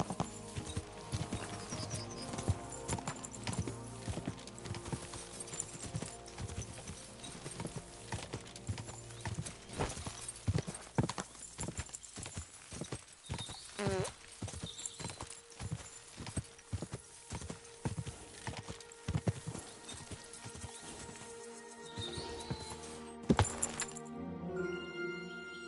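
Horse hooves in the Kingdom Come Deliverance 2 video game clop in a steady, close rhythm for the whole stretch, with faint jingling of tack and an occasional snort.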